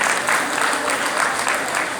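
A crowd gives loud, dense applause for Arpit Kumar at a Gandhi Jayanti blanket-distribution event in Jaspur, Uttarakhand, sustained clapping filling the whole moment.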